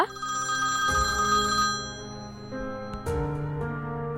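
A mobile phone rings indoors, a bright repeating electronic ringtone playing steadily and close with no voices over it.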